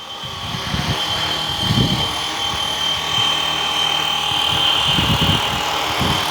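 A FlyWing FW450 radio-controlled helicopter whirs with a steady high-pitched motor whine and rotor buzz, holding at a constant, fairly close distance while it flies outdoors.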